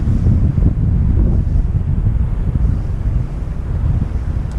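Wind buffeting the microphone beside the St. Lawrence Seaway, a loud continuous low rumble and rush with gusty swells and a possible wash of water underneath, no voices.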